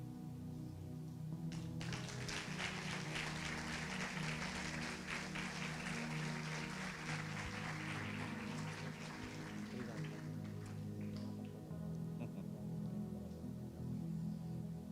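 Congregation at a Brazilian evangelical church service applauding the Lord, sustained dense clapping that starts around two seconds in and keeps a steady level over music and low room sound, with no talk.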